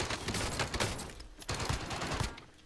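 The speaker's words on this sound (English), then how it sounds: "Oh, somebody's shooting at me." Rapid bursts of automatic gunfire in Call of Duty Modern Warfare Warzone crackle through an online firefight, fairly quiet and dense, with overlapping shots and no pauses over a few seconds.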